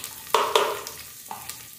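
Onion sautéing in a pot for a chicken soup with cornmeal, soft sizzling under a few sharp clinks and scrapes of a utensil stirring against the pot, close and fairly quiet.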